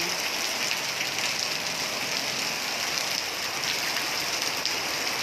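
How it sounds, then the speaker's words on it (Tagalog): Steady rain falls on a surface outdoors, a dense, even hiss of drops that stays constant and fairly loud throughout, with no voices. "Ang ulan di ay."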